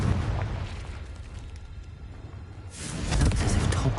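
A Confringo blasting curse detonating in Hogwarts Legacy, a deep, booming explosion that swells near the end after a rumbling lead-in, heard alone.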